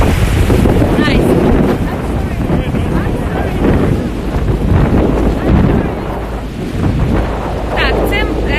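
Strong wind roars across the microphone beside the thundering water of Niagara Falls, a loud continuous rush with faint voices underneath.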